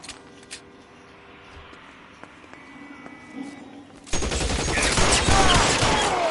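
Gunfire from the video game L.A. Noire erupts partway through as a dense, loud volley of shots, following quieter game ambience with scattered faint clicks.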